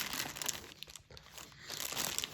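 Factory packaging around a VAZ 2101-2107 brake cylinder being torn and crinkled open by hand, a close, quiet burst of crackling and ripping that eases briefly midway before rustling again.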